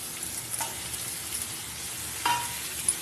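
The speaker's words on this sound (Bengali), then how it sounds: "মশলাটা দিয়ে এবার কষিয়ে নেবো যতক্ষণ না ভালো করে তেল ছেড়ে কালারটা অন্যরকম আসছে" Spice paste sautéing with prawns and onion in an oiled pan, a steady moderate sizzle broken by a few sharp stirring scrapes and clinks.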